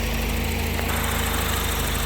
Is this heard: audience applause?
no